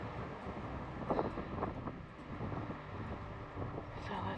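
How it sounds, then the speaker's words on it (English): Wind gusts buffet the microphone on a hike through a regional preserve, a loud rushing roar that rises and falls, with a person talking faintly underneath. "the wind is like blowing me over"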